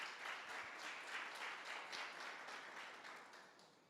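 A church congregation applauds with soft, distant, continuous clapping that fades slightly toward the end.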